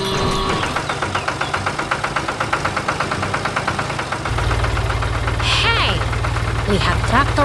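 A blue Ford tractor engine runs under load with a rapid, rhythmic knocking chug for the first half, then shifts to a steadier, louder drone; a voice is heard briefly near the end.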